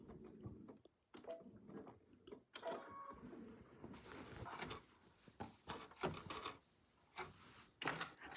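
A sewing machine tacks free-motion quilt stitches in short, uneven bursts of fast mechanical chatter, close and fairly quiet, separated by brief pauses and small handling noises.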